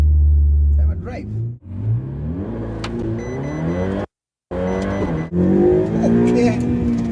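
A 2020 Ferrari 488 Pista engine revving while driving, loud and close, with rising and falling rev sweeps, a short gear-change gap midway, then more climbing revs. A person talks over it.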